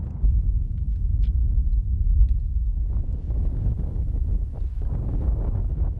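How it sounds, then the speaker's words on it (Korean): Strong wind buffets and rumbles steadily with a deep, blustery roar, with no voices, in a desolate high-altitude Himalayan basin above 4,000 m near Dingboche, Nepal. "바람소리 외에는 아무것도 들리지 않는 적막한 땅"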